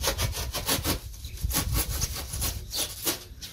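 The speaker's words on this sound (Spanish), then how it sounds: "Aquí lo estamos cortando." A piece for a stone-veneer mold cut by hand, steady rhythmic back-and-forth rasping strokes, close and moderately loud, with no talk.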